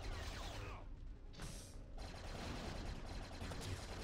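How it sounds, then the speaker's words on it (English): Sustained minigun fire in the Star Wars: The Force Unleashed video game, a dense continuous roar of rapid shots that briefly thins out before resuming, loud and steady throughout with no talking. "Oh, he's got a Gatling gun."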